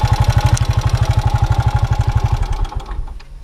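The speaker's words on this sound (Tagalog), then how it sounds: "So ayan, narinig natin guys, ang lakas ng lagitik." Suzuki Gixxer motorcycle engine idling up close, a fast, steady loud ticking clatter riding on the engine's throb, then the rhythm falters and fades as the engine dies down.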